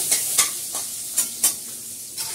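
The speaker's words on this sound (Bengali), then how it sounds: "আমি রসুন দিয়ে ফোড়ন দেবো।" Garlic and a dried red chili sizzling in hot oil for a masoor dal tempering, a steady frying hiss broken by a few crisp stirring scrapes, close and alone.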